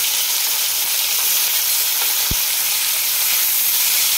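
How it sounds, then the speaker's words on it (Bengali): Prawns hit hot oil in a pan, seasoned with ginger-garlic paste and salt. A loud, steady hiss of frying runs throughout, with one short low thump partway through. "চিংড়ি মাছগুলো দিয়ে দিচ্ছি"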